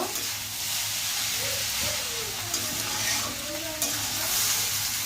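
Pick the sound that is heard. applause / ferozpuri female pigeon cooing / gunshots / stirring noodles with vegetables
stirring noodles with vegetables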